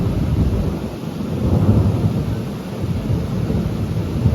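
Thunderstorm over the sea at Mallorca, Spain: a loud, close, continuous rumble of thunder rolling on under steady pouring rain, with no voices.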